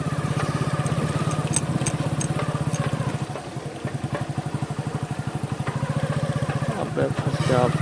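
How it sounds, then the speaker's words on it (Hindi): Motorcycle riding slowly with the clutch half engaged, a steady close engine putter with rhythmic pulsing throughout, while someone talks over it. "अब आधे क्लच में ना बाइक इजीली निकल जा रही है"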